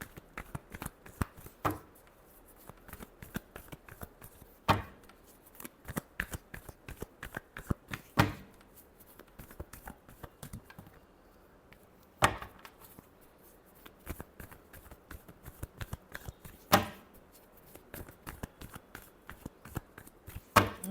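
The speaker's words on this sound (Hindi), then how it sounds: "Last shuffle." Playing cards shuffled during a tarot-style reading, a run of crisp riffling bursts and soft slaps recurring every few seconds, close and fairly quiet with no talking.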